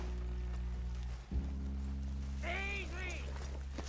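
Horses ridden in Red Dead Redemption 2 clop along steadily beneath a low droning background, with a short whinny-like call partway through.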